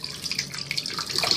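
Water running from a tap into a container, a faint, uneven splashing trickle with small drips, heard alone without talk.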